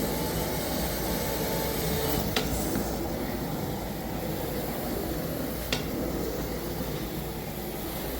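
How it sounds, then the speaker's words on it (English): A carpet-cleaning vacuum wand runs during a carpet cleaning job, sucking up debris. It makes a loud, constant rushing drone throughout, broken only by a couple of brief clicks. "It will vacuum all the debris."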